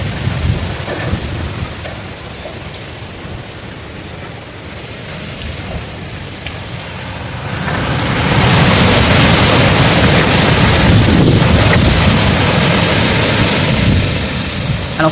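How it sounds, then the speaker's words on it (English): Hurricane Beryl's storm: steady heavy rain and wind roar, swelling into a louder, fuller wind surge partway through that holds for several seconds before easing slightly. "Just give you a last little look of a wind surge."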